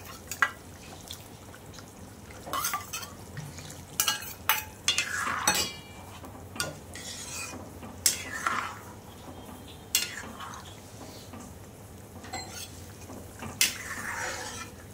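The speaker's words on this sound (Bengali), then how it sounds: "এই দেখো ভাজা মশলাটা আমি ঝোলে মিশিয়ে দেবো।" A spoon scrapes and clinks in a pot as fried spice mix is stirred into a fish and potato curry gravy, with intermittent close metallic taps and soft stirring sounds.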